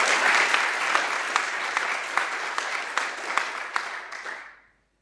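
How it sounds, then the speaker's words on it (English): An audience at the EuroSciPy conference closing gives a round of applause, a dense, even clatter of many hands close by that holds steady for about four seconds, then fades out and stops. "So give us a round of applause."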